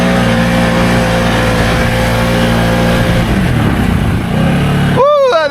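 A Can-Am Outlander ATV on 33-inch tires with an XMR700 18% gear reduction revs hard at open throttle, a loud sustained engine roar that climbs in pitch before cutting off abruptly near the end.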